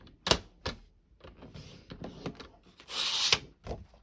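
Cardstock scored on a scoring board for a card base, a handful of close, dry clicks and knocks with a brief scraping stroke, quiet with no talk.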